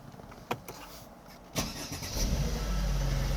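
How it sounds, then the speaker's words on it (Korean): A Mercedes-Benz CLS six-cylinder engine turns over after a few sharp clicks, then catches and settles into a deep, steady idle rumble up close. "CLS 차량 시동 걸었을 때 6기통 차량이기 때문에 묵직한 맛이 지금 느껴지고 있고요"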